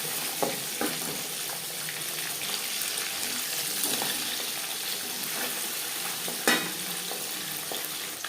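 Steady crackling sizzle of pabda fish frying in hot oil, with a few sharper spatters and light utensil scrapes; no voices.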